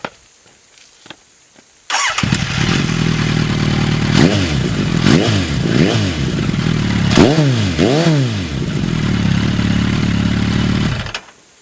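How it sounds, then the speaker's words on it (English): A 2009 Suzuki Bandit 1250 with a Danmoto aftermarket exhaust cranks and fires up, then idles with a deep, throaty note, revved several times in short rising bursts before settling and cutting off. "this Danmoto exhaust I think looks good and sounds a lot better than the stock exhaust"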